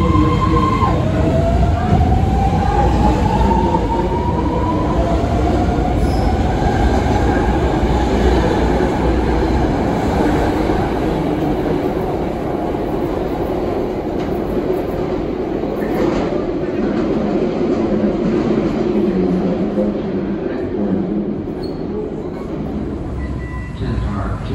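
A ten-car BART subway train rolls in with a steady rumble and a rising metallic whine, loud and close, while a voice talks over it.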